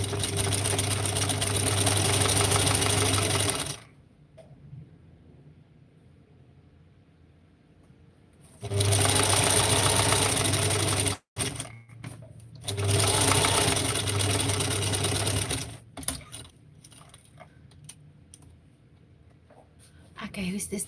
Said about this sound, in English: I am just busy sewing all these fabrics together